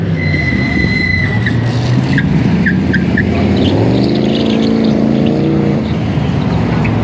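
A car with a 5.3 V8 engine at a hot-rod car meet revs on the throttle, a loud rumbling engine roar rising and falling in pitch, with chirps of tire or belt squeal near the start, close and continuous.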